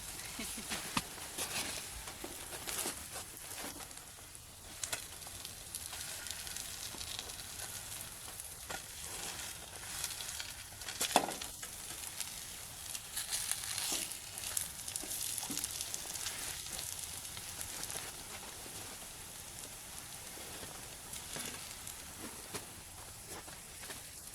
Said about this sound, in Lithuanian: Kepam paskutinę porciją blynų.